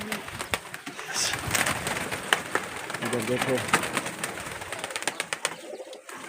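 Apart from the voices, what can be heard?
pigeons cooing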